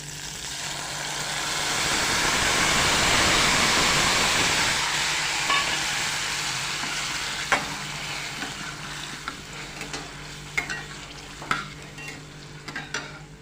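Tamarind pulp goes into a pan of peanuts and dals frying in oil, giving a loud rushing sizzle that swells and then settles into quieter crackling with sharp clicks of stirring, and no voices.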